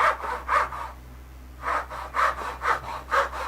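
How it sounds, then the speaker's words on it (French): A hand saw cuts wood along a scribed knife line, with rasping back-and-forth strokes in two bursts separated by a short pause, close and moderately quiet. "Donc un trait de scie dans un sens puis dans l'autre"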